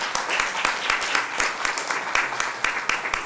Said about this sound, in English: thank you all for applauding them.